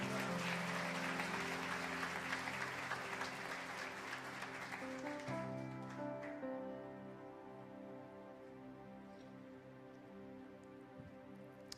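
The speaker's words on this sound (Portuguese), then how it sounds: "Dê um aplauso ao Senhor." A church service congregation applauds quietly over soft sustained worship music, the clapping fading away after a few seconds and leaving only the music.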